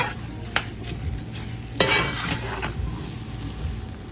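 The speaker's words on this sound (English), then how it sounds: "you kind of want to let the rice fry a little bit in there" Rice frying with peppers, garlic and onions for Spanish rice, a steady close sizzle broken by a couple of sharp spoon scrapes and clinks against the pan.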